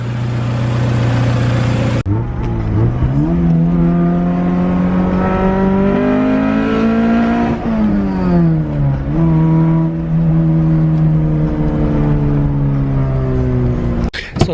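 A straight-piped 2.5-inch exhaust on an all-wheel-drive Honda CRX, running into a street power box muffler with a 3-inch outlet, revs loud and close, climbing and dropping in pitch through several long pulls.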